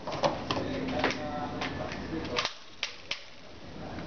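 An Uzi fires in a handful of sharp, snappy cracks at uneven intervals rather than a long continuous burst. Voices talk over and around the shots.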